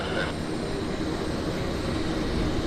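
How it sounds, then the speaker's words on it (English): A Q400 turboprop airliner landing at Vancouver airport produces a broad, steady engine rumble and roar that stays constant throughout the short stretch, with no talk over it. "we've got a Q400 landing here on this side"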